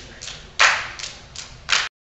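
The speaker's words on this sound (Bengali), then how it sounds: "ওয়ানপ্লাসের জন্য তালি হবে," Several claps in honour of the OnePlus 5 smartphone, with two louder, sharper claps standing out among softer ones, close and alone without any talk.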